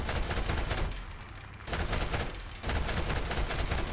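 Enemy .50 caliber machine gun fire in the War Thunder game rattles in dense, continuous bursts, with two short pauses breaking the loud, sustained racket.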